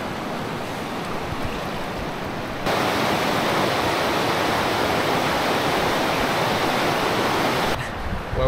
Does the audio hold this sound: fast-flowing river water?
yes